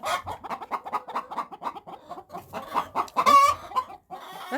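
Barnyard chickens in a coop cluck steadily in rapid, overlapping bursts, with one louder squawking call partway through, close and busy with no talk.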